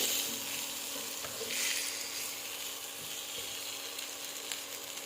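Vegetarian bites fry in a pan with a soft, steady sizzle and crackle, fairly quiet and continuous, with faint stirring scrapes and no voices.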